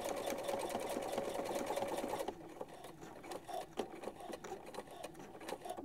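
A sewing machine stitches the end of a buttonhole on men's boxers with a steady, close mechanical whir. About two seconds in, the hum drops to a lighter, quieter running with small ticks.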